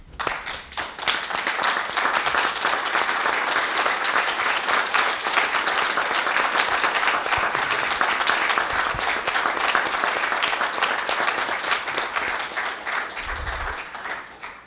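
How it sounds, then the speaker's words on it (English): A city council meeting audience in Alamosa applauds a retiring staff member, Ruth Heide, with sustained, even clapping from many hands that carries on for nearly fifteen seconds without talk. "give Ms. Ruth Heide a round of applause for her service"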